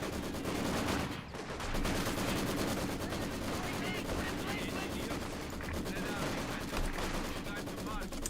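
Gunfire in the World War II strategy game Company of Heroes 2, with dense rattling machine-gun bursts and scattered shots crackling continuously over a noisy battlefield backdrop.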